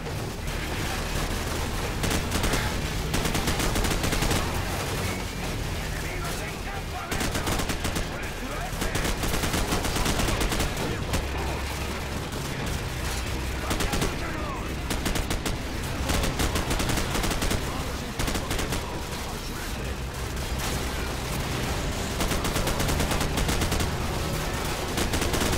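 Dense, continuous machine gun fire in the shooter Call of Duty 4: Modern Warfare, loud and relentless with overlapping bursts, explosions and battlefield noise filling the whole stretch.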